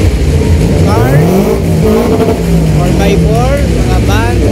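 Loud motorcycles and cars at an outdoor motor show, engines revving and rising in pitch in several overlapping bursts, with steady crowd chatter and talk running underneath throughout.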